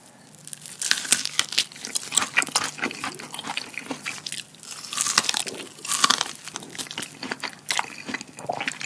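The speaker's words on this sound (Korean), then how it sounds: "옥수수 한번 먹을게요" Loud, close crunching and chewing of crunchy corn topping on fried chicken, with irregular crisp bites and crinkly mouth noises throughout.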